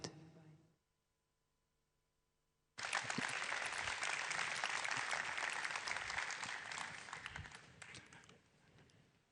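Audience applause at a Xiaomi 13T product launch event, a dense burst of clapping from a large hall that starts suddenly after near silence, holds strongly for several seconds and then tapers off.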